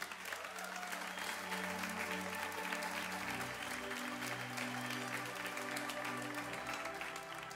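A church congregation applauds the Lord with steady, sustained clapping that fills the whole stretch, with a sustained musical tone underneath, carrying on evenly with no talking.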